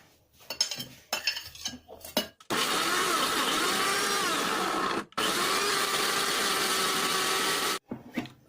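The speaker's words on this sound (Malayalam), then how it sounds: "ബനാന, ക്യാരറ്റ് എന്നിവ ചേർത്ത് നല്ല പോലെ ഒന്ന് അടിച്ചെടുക്കാം" A mixer grinder jar whirring through banana, carrot and apple into a smoothie paste: a loud, steady, close motor roar in two long bursts with a brief pause between, preceded by a few clinks and handling knocks.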